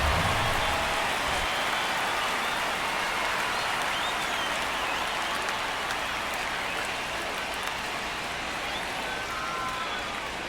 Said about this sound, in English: The rain is here, and it doesn't look like it's going away anytime soon.